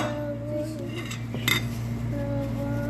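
Dishes and cutlery from a pre-dawn meal are handled in a home kitchen, with light clinks and scraping clatter over a steady humming background, close by and moderately loud.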